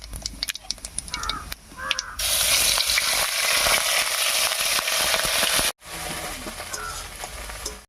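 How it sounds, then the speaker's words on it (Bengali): Onion paste hits hot oil over whole cumin and black cumin seeds, bursting into a loud, steady sizzle after a few light spoon clicks, then fries on with stirring and scraping after a brief pause. "ফোরনের উপরে পেঁয়াজটা দিয়ে একটু কষিয়ে নিয়েছি"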